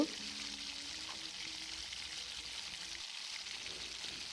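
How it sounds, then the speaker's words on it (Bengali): Soft, steady sizzling of carp pieces coated in turmeric, chilli and salt frying in hot oil, a continuous hiss with faint clinks and no talking. "মাছগুলো তেলে দিয়ে দিব"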